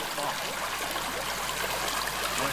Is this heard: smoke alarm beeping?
no